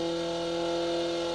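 BMW 325i E30 engine holding a steady, loud drone while driving, a continuous in-car hum with no pauses.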